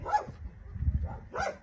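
A dog barks twice at an animal shelter with many other dogs around, two short sharp barks separated by a pause, with low rumbling background noise between them.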